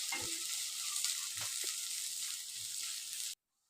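Onion with ginger garlic paste frying in a pan, a steady close sizzle with a few stirring scrapes, cutting off abruptly near the end.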